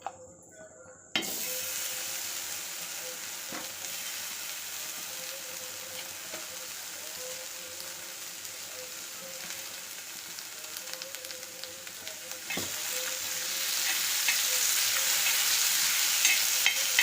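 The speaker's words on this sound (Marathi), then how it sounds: "कारल्यासाठी ना आपण इथं कांदा, टोमॅटो आणि लसूण तेल चांगलं परतून घेते" Onion, tomato and garlic fry in oil for a bitter gourd dish, a steady close sizzle that starts abruptly after a quiet second and grows a little louder toward the end, with occasional stirring clicks.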